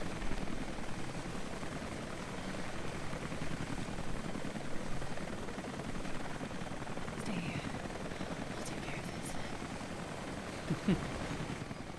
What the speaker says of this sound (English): So we got a chopper in the way now.